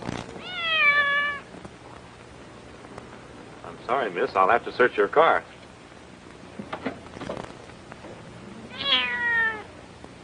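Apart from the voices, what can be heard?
cat meowing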